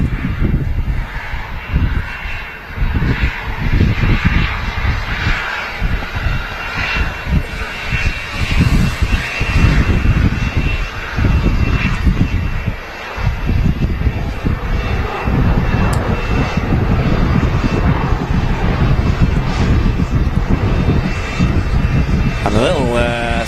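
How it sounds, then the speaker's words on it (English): An EasyJet Airbus A320 arriving from Lucca touches down at Manchester Airport, its engine roar loud and steady for the whole stretch, with a voice talking over it much of the time. "About to touch down now is another EasyJet, an A320 from Lucca."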